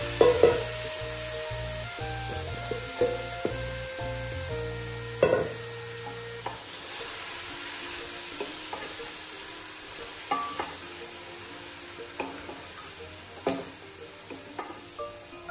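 Hot oil sizzles and crackles as potatoes and fenugreek fry, with sharp clinks of a spoon stirring against the pan early on.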